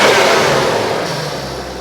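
A Nissan Skyline GT-R's RB26DETT engine runs close by with a smooth, steady mid-range drone that eases slightly in level over a couple of seconds, with no voices.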